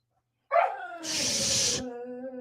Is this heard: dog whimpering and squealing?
yes